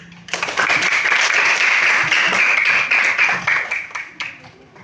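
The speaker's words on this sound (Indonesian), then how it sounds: "Tepuk tangan dulu" Classroom clapping, a dense burst of hands starting abruptly and holding steady before thinning into scattered claps near the end.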